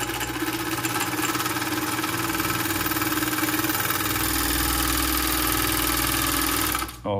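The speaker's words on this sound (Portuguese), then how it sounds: "Aí ela está costurando e falhando ponto" A semi-industrial GN1-6D overlock sewing machine running and skipping stitches, making a loud, close, steady mechanical whir and rapid chatter that continues for several seconds and then briefly cuts out near the end.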